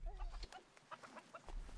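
Chickens on a family farm at the foot of Jirisan cluck in short bursts of varied calls, close by, with a steady low rumble underneath and no talking.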